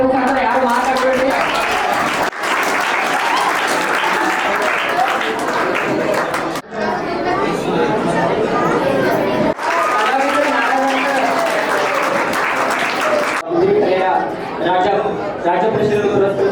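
An audience at a craft demonstration and awareness programme claps continuously and fairly loudly. A voice speaks over the clapping, which breaks off in several short gaps.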